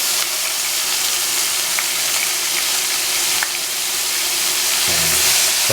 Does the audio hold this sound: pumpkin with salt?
yes